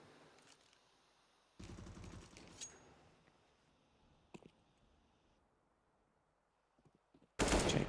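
Desert Eagle pistol shots in Counter-Strike on the Nuke map during a tournament match, a few sharp reports spaced apart over quiet game ambience, ending in a loud close burst.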